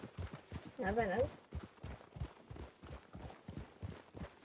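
Horse hooves clip-clop in a steady, evenly spaced walking rhythm in the Red Dead Redemption 2 video game, close and clear throughout, with people chatting over the hoofbeats.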